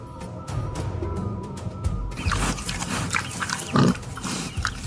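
Wild boar grunting, a few short rough grunts and snorts standing out against a quiet outdoor background, fairly close and alone.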